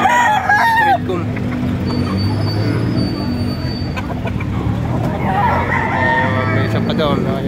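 Roosters crowing repeatedly at a busy gamefowl market in Padre Garcia, Batangas, several birds overlapping near and farther off, with someone talking throughout and background market noise.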